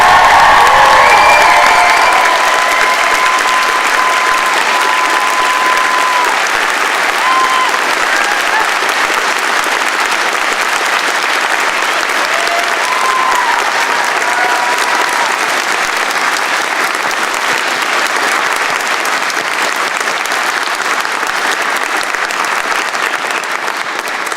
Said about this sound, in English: And graduates, a round of applause for the faculty.